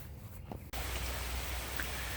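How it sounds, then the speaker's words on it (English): Rain falls steadily outdoors near a newly built chicken coop, a broad even hiss of drops on surfaces that swells in abruptly after a brief quieter moment and then holds constant. "Well, the rain showed up."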